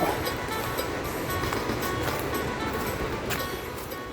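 Rushing water roars in a steady, dense wash at a waterfall in Khao Yai National Park, continuous and fairly faint with no pauses.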